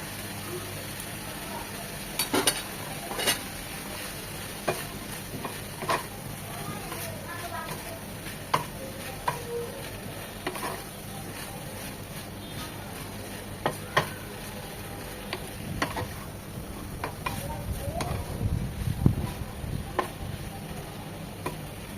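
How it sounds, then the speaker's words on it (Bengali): Chicken with tomato sauce fries in a pan, a soft steady sizzle broken by scattered clicks and taps of a spoon stirring, fairly quiet and close. "4-5 মিনিট চিকেনটাকে ভাজা ভাজা করে কুক করে নিব"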